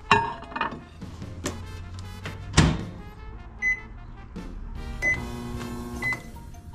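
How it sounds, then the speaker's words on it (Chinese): A microwave oven hums steadily while reheating cold chicken for dinner, with several short electronic button beeps and a few clinks and thunks of dishes nearby. "冷掉了， 我微波一下。"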